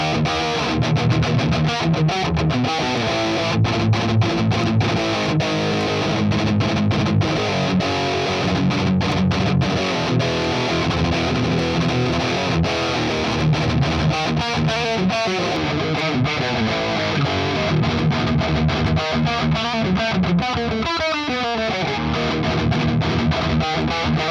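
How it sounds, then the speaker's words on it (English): Distorted electric guitar through a TSL tube amplifier with reverb switched off, plus a Two Notes Reload II reactive load box, played continuously and loud with dense chords and riffs throughout, dry and up front with no talking. "I'm gonna take out all of the reverb on this amplifier."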